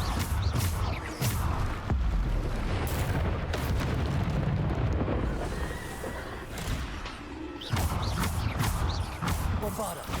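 Bombarder spell explosions in the video game Hogwarts Legacy, repeated booming blasts and rumbling bursts over a noisy combat scene.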